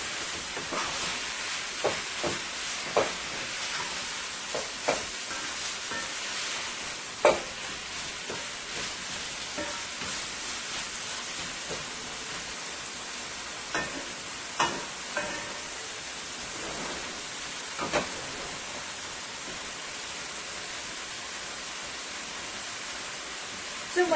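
Ground beef and vegetables cook in a pan with a steady, hissing sizzle, broken by scattered sharp pops and crackles.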